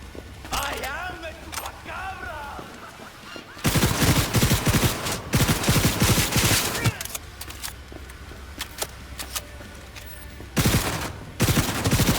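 Gunfire in the video game Cyberpunk 2077, bursts of rapid loud shots in two main stretches with a quieter gap between, mixed with game effects.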